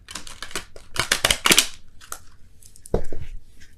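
Tarot card deck being shuffled by hand, giving a run of crisp, snappy riffling bursts close up, a pause, then a shorter flurry of card clicks, with no voices.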